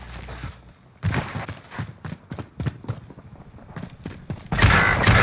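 Guns fire in Warzone on Rebirth Island: bursts of sharp, close shots come in an uneven rhythm, pause briefly, then build into a loud, dense volley at the end.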